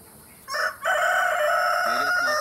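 Village hens and a rooster feed together, loud and close, and a clear crow stretches across most of the clip. Short clucks come before it, and nobody speaks.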